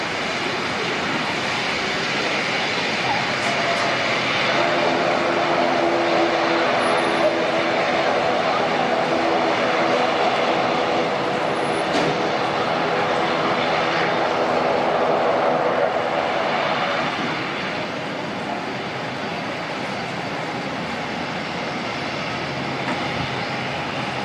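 ATR turboprop airliner taxiing out at Auckland Airport, a steady whining drone with a broad rumble heard from a distance, swelling slightly midway before easing back.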